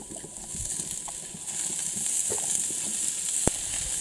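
Pork tenderloin sizzles in oil on a plancha, a steady close hiss of frying with faint patters and small pops throughout, plus one sharp crack near the end.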